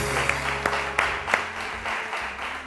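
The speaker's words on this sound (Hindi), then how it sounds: "बहुत सारी तालियां शहजाद साहब के लिए।" A studio audience on a television morning show applauds director Shahzad Rafiq, a steady patter of clapping with a few sharper claps standing out through the short stretch.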